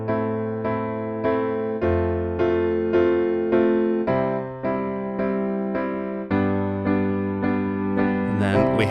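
Piano plays the intro chord progression of a song, the right hand striking chords on every count in a steady, even rhythm with the left hand's bass notes shifting underneath, close and clear, without any talking.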